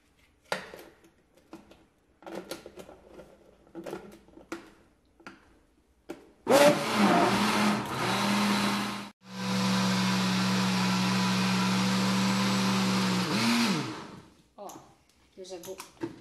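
A blender mixes lemon juice into a creamy dessert mixture, running loud and steady for several seconds, stopping briefly, then roaring again; someone talks before and after.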